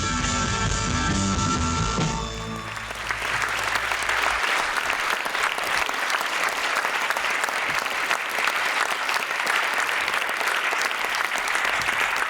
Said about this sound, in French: Les applaudissements, c'est parce que j'ai réussi à monter sur l'estrade?